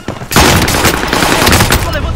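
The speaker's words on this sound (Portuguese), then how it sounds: "Tô levando tiro!" A burst of rapid gunfire crackles loudly and continuously after a brief quiet start, sounding like sustained automatic shots, in Call of Duty: Warzone on Rebirth Island.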